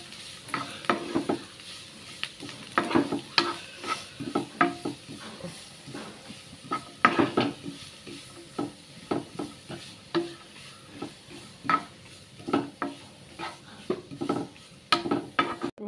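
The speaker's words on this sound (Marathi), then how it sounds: "पियाव घाता. पियाव भाजयता. पियाव बरो करून भाजूंक जायो." Onions frying in a pan with spices while a spoon stirs them, steady sizzle under repeated scraping and clanking strokes against the pan, close and continuous with no talk.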